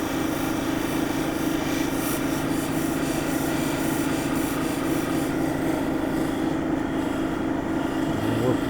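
Steady rubbing and grinding of Brazilian agate cabochons worked side to side across coarse grit, continuous and fairly loud with a low hum beneath, no pauses through the stretch.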